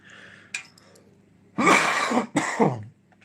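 A person clears their throat, followed by two harsh, close coughs in quick succession, with faint background noise beforehand.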